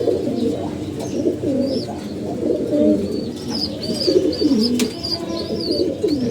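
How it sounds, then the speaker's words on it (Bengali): A pair of pigeons kept in a coop coo continuously in low, throaty rolling phrases close by, with a few higher chirps from other birds in the background. "আর এই যে আমাদের কবুতর"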